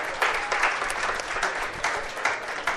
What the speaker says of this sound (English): Let's give Lane a round of applause.